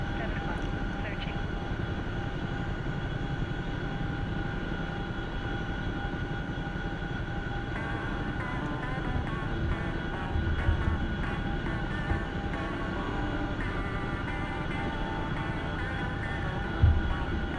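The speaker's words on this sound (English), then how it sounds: "Like speed drifting our Chinook around the trees." A Chinook helicopter in a war video game flies low around trees, its engine and rotor drone holding steady and fairly loud, with a brief low thump near the end.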